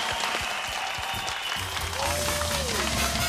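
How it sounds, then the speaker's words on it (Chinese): Audience applause in a Taiwanese TV variety show studio after a jazz song-and-dance act, a steady wash of clapping over the first half, then a host's voice and music over the sustained applause. "来来，掌声鼓励一下"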